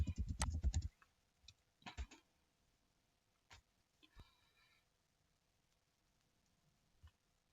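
Computer keyboard keys clatter in a short quick burst at the start, followed by a few sparse, faint clicks and taps spread through an otherwise quiet stretch.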